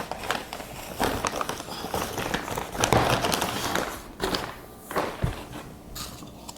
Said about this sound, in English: I just need to scoop up some more dirt